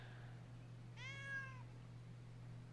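A cat gives a single short, faint meow, rising and falling, over a quiet steady room hum with no talking.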